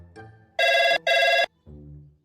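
A telephone bell rings loudly in two long bursts, each just under half a second with a short gap between, followed by quieter speech in a domestic comedy scene.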